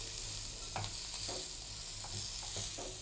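Onions frying in a pan and being stirred, a steady soft sizzle with several light scraping stirs spaced through it, close and fairly quiet, no talking.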